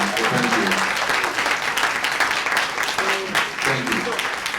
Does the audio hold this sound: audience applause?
yes